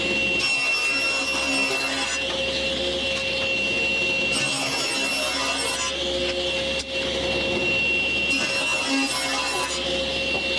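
A saw cuts strips from a piece of wood in a workshop, a steady rasping drone running the whole time with a few louder stroking passages that come and go.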